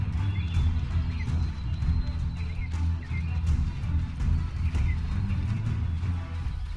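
Horse hooves clip-clop in a video game as the player rides off, a steady galloping rhythm set against a dense, rumbling low game soundscape that continues throughout.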